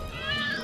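A cat meows briefly in a credit score TV commercial, a short close mew against a background of music or room tone.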